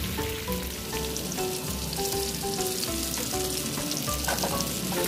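Chilli and onion frying in hot oil while being stirred for a Nepali chicken curry, a steady loud sizzle with scraping stir strokes and spoon taps running throughout, no voices.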